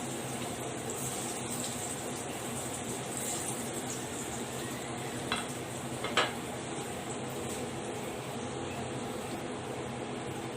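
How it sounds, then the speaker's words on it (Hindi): Falafel balls of blended raw chickpeas deep fry one by one in oil over a low flame, producing a faint, steady bubbling hiss with a couple of soft clicks partway through and no speech. "हम इसी को 1 बाय 1 इसमें हल्की आंच पर इसको डीप फ्राई करेंगे।"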